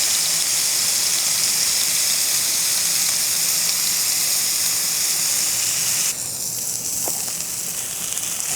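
Ribeye steaks sear on a Blackstone 20-inch camping griddle with a loud, steady, close hiss and sizzle that drops to a softer crackle partway through.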